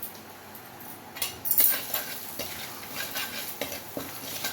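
Ground spices, turmeric, red chilli, garam masala and coriander, frying in a pan for mixed vegetables, a soft sizzle with a louder burst and repeated scraping, clinking spoon strokes nearby.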